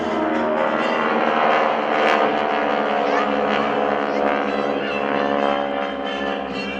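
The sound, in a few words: GEICO Skytypers aircraft flying in vertical diamond formation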